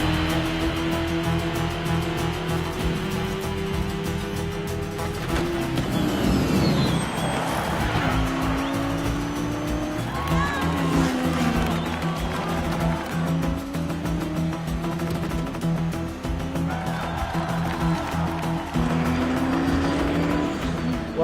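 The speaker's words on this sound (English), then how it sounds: "Shelby, he's pushing the car too hard." A race car driven hard in a Ford v Ferrari film scene, its engine roaring loud and continuous as it climbs and drops through gear changes, with layered engine and road noise and no talking.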